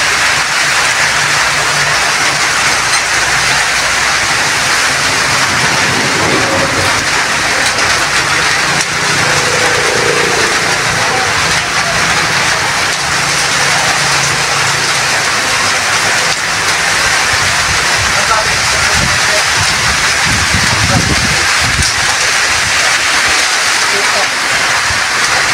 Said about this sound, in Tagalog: Pero yung ulan medyo malakas na yung bagsak ng ulan.